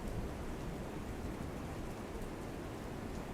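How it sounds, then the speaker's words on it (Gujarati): Heavy rain falling across Mehsana district, a dense, steady roar of rainfall on surfaces, continuous and loud, with no voices. "મહેસાણા સિટી, વડનગર, ઊંઝા સહિતના ક્ષેત્રમાં ભારે વરસાદ પડ્યો"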